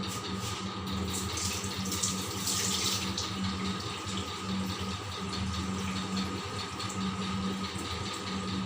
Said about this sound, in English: I'll just strain out this water. I'm going to use the help of this strainer